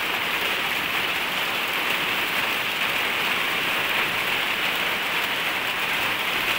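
Heavy rain pours steadily onto a terrace garden in Ajmer in March, a dense, loud, unbroken hiss of drops with no voices.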